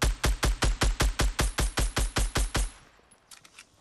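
Rapid automatic gunfire in the Fortnite video game, about fourteen evenly spaced loud shots in a steady rhythm lasting under three seconds, then a few faint distant pops.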